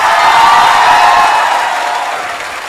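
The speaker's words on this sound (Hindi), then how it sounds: "एक बार वापिस जोरदार तालियां।" A classroom audience bursts into loud, sustained applause mixed with cheering and whoops to welcome a visiting guest, a dense roar that holds steady and eases slightly toward the end.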